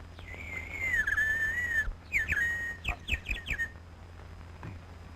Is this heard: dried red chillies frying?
no